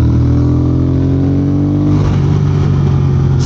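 A Triumph Speed Twin motorcycle is ridden on the road, its engine a loud, steady drone heard up close; the pitch holds, then shifts partway through as the revs change, and no one talks.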